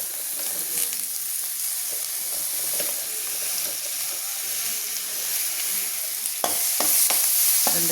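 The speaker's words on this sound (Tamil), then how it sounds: "ரெண்டு தக்காளியும் போட்டு நல்லா வதக்குங்க." Onions, tomatoes and curry leaves sauté in a pan, a steady close sizzle and steamy hiss with soft scraping as they are stirred, ending in a few louder clanks of the spatula against the pan, no voices.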